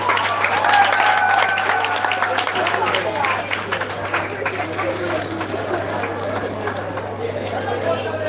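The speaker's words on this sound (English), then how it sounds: "Come forward, can give him a round of applause." An audience applauds at a Jamaican event honouring a JCDC finals award winner, a sustained wash of clapping mixed with crowd chatter and cheers that gradually thins out.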